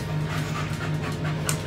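A frightened, overheated dog pants rapidly and steadily close by during nearby fireworks, a continuous breathy huffing over a low background hum.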